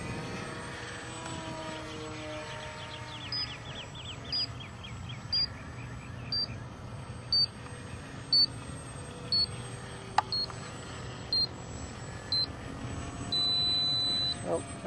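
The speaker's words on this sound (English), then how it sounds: "that was my 6-minute timer" An RC transmitter's 6-minute flight timer beeps in a regular series of short, sharp tones about once a second, ending in one longer tone, over the distant drone of a HobbyKing Extra 260 model airplane with people talking.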